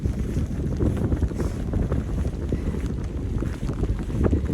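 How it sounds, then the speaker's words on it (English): Strong wind buffets the microphone on a hiking trail in Alabama in a steady, low roar with gusty surges throughout, no voices present. "know it's windy, you probably can't hear me now"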